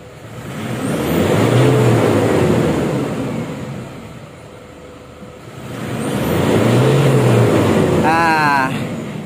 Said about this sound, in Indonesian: kita coba akselerasi untuk mobilnya ya